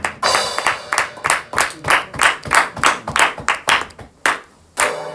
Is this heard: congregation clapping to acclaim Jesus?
yes